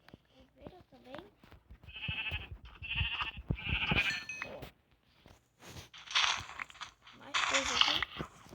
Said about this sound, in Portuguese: Aqui é ovelha também.